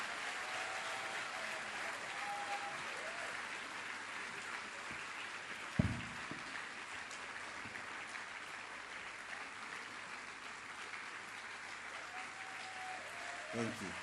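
Audience applause at a foundation forum runs as a steady, fairly distant wash of many hands clapping, with a couple of louder thumps near the mics.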